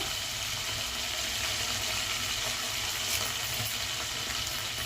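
Cumin seeds and curry leaves sizzle in hot oil in a frying pan while mint chutney is being made. The frying crackle is steady and fairly quiet, continuous throughout with no voices.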